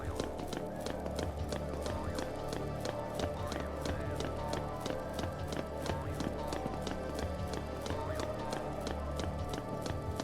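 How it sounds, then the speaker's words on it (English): Lightning's footsteps in Final Fantasy XIII sound as quick, even, crisp taps while climbing a tower, steady and continuous over faint background game audio. "mostly I'm just hearing Lightning's footsteps"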